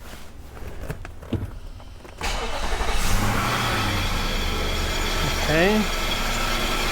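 A Nissan/Infiniti 5.6L engine cranks and catches about two seconds in, then settles into a steady, loud idle close to the microphone, with a brief spoken word before it starts.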